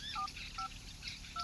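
A telephone keypad sends a quick, uneven run of about five short electronic dialing beeps. The tones are quiet and close, over a faint background hiss.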